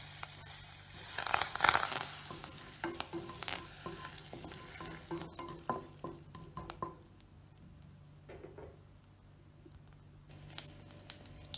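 Curry leaves crackle and sizzle in hot oil for a Kerala green gram puzhukku, with a burst of spattering near the start that settles into softer intermittent popping and a few utensil clicks.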